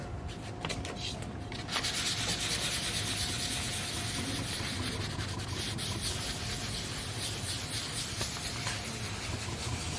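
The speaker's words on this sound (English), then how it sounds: "I start with an 800 dry paper." Continuous rhythmic hand sanding of hardwood finish with 800-grit dry paper, steady rubbing strokes on the surface, close and fairly quiet, with no voices.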